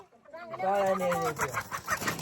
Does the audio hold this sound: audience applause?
no